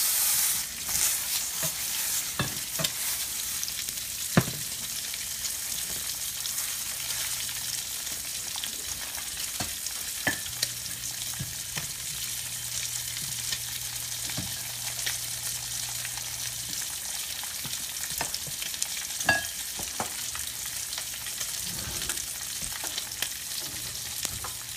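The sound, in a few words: stirring gorgonzola cream sauce in a pan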